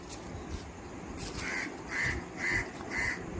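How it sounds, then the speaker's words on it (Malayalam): Crows caw outdoors, a series of about four harsh calls at a steady pace over faint background noise. "കാക്കയും കൊക്കും എല്ലാം ഉണ്ട് എല്ലാവരും വന്നു"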